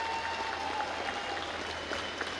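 Faint, distant audience applause fills a college graduation ceremony hall as a steady, even wash of many hands clapping, with no clear voices over it.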